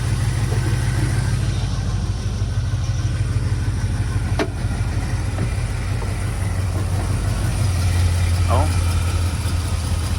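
A 1978 GMC truck engine, just jump-started after sitting for years, idles steadily with a low, even rumble throughout, while a person speaks briefly nearby.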